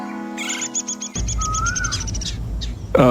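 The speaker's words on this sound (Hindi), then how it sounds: "ऊपर उस पेड़ पर कितनी सुंदर चिड़ियाएं बैठी हैं।" Birds perched in a tree give quick, bright chirps and a few longer whistled calls over a busy, rumbling background, starting out clear and then partly buried under steady noise.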